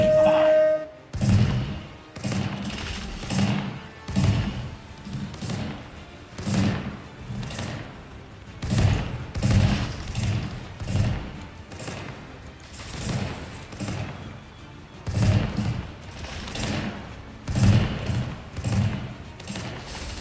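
Ship cannons in the pirate video game Corsair Cove fire in a long run of booming thuds, shots coming in quick clusters with short gaps, loud and close throughout.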